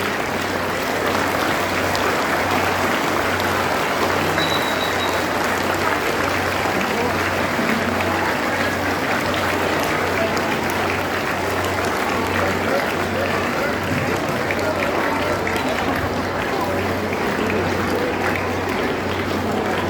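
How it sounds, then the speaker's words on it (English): Audience clapping at a school farewell celebration, a loud, sustained, even roar of many hands clapping together throughout, with a steady low hum beneath. "Clap and smile."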